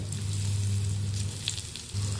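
Fish pieces frying in oil give a steady close sizzle over a low hum, with a few small crackles and pops and no voices.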